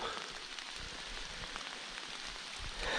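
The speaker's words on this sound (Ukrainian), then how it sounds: "дощ паде" Steady rain falls in a forest during a mushroom-picking outing, a soft continuous patter of drops on leaves and ground, close and even throughout, with no talk.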